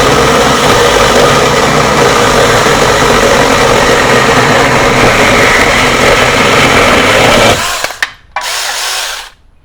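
Alloyman Mini 6-inch battery chainsaw running loud and close with a steady high electric motor whine for about eight seconds, then cutting out, with a brief second burst before stopping.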